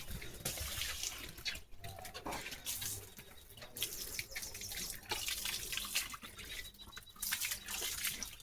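Water gushes and splashes from a pipe as a pet dog named Leo plays in the spray, a continuous close rushing and spattering with no talk.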